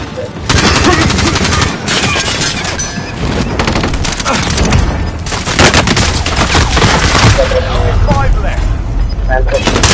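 Rapid automatic gunfire and bursts of shooting in the battle royale game Warzone's Rebirth Resurgence mode on PS4, loud and continuous across the clip, with voices talking over the firefight.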